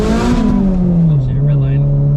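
Full-throttle pull from a 500+ hp turbocharged Subaru BRZ, engine note climbing loud and close with a strong, gritty harmonic drone, while voices talk over it.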